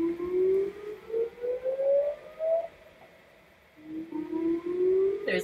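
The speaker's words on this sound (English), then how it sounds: "There's a siren." A civil defense siren wails in a city, heard from a distance along the Erie Canal. Its rising, drawn-out tone fades in a dip and then swells back up again in slow, pulsing sweeps.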